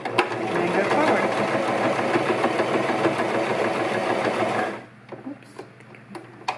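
A sewing machine runs fast and steadily up close while stitching fabric for a chair pouch, then stops abruptly, leaving a few soft clicks and handling noises. A person talks over it.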